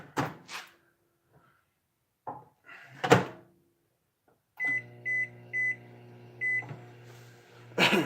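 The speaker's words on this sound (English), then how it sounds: "Put the plastisol in the microwave." A microwave oven set aside for heating plastisol for fishing baits: its door is handled, a run of clear beeps sounds as it is set, then the steady hum of it running, with a sharp thump near the end.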